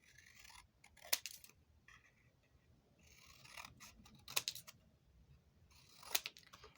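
Scissors snip through stiff card in a few short bursts of crisp cutting, quiet and close, with pauses between cuts.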